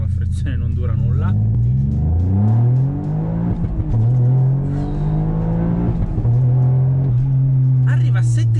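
A Toyota Yaris GR with Stage 2 tuning pulls away hard from a standing start, its engine revving loud and close, climbing steadily through each gear with brief dips at the shifts.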